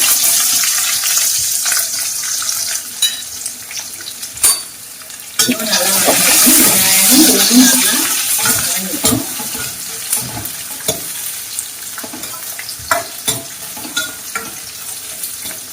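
Shallots and garlic sauté in an oil-filled pan for a chettinad pepper prawn fry, giving a steady loud sizzle with a busier burst of frying and stirring in the middle, plus scattered spoon scrapes and clicks.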